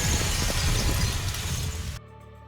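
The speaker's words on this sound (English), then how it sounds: "accompanied by the sound of material cracking and cleaving" A massive object cracks and splits apart under gunfire in the game Nikke: a dense, loud shattering crunch with scattered impacts for two seconds, then cutting abruptly to near silence.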